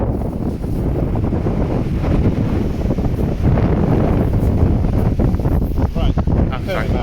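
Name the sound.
wind blowing on a beach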